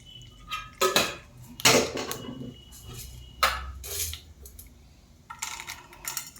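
Chana dal tossed into hot oil in a pan, with clattering metal spoon and pan knocks and bright sizzling bursts spread over several seconds, close and loud, with no talking.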